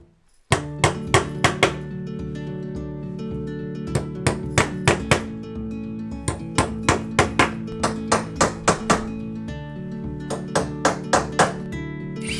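A hammer strikes nails into a wooden deck in quick bursts of sharp knocks, pausing between groups of blows, close by with no talking.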